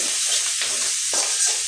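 Chopped okra cooks in a hot pan, giving a continuous near sizzle broken by stirring scrapes in a loose rhythm, with no voices.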